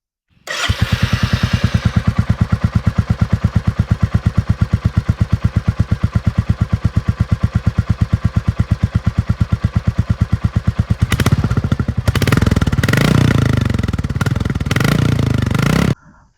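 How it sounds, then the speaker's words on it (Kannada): A 2024 Royal Enfield Classic 350 motorcycle engine cranks and fires up, settling into a steady, rapid thumping idle through its silencer, then revs louder with rougher bursts near the end. "ಇನ್ನು ವೆಹಿಕಲ್ ಸ್ಟಾರ್ಟ್ ಮಾಡಿದ್ರೆ ಸೈಲೆನ್ಸರ್ ಸೌಂಡ್ ಹೇಗೆ ಬರುತ್ತೆ ಅದನ್ನು ಕೂಡ ತೋರಿಸ್ತೀನಿ ನೋಡಿ"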